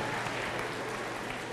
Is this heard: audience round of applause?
yes